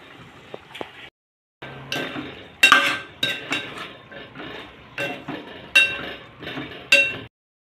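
Boneless chicken sautéed in butter in a pan, heard as a string of close, sharp clinks and scrapes of a utensil against the pan in short bursts separated by brief pauses, with faint sizzling underneath.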